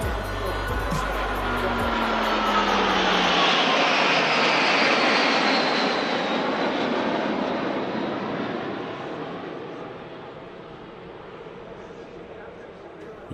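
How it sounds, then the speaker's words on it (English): A mixed formation flypast at the International Ayr Show, with a Sabre Mark 6, Spain's Patria Aguila display team and a Pilatus PC-21, as a loud roaring jet rush that swells, peaks and slowly fades into the distance. "Sabre Mark 6 joined Patria Aguila for a special flypast, representing Spain's previous national display team, Patria Ascua"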